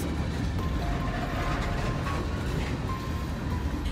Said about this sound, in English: and there's literally a train.